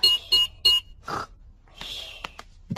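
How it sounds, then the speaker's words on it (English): A cartoon house alarm chirps with three short, shrill electronic beeps in quick succession, followed by softer rustling and a brief higher tone as it is switched back on, close and fairly loud. "Switch the alarm back on."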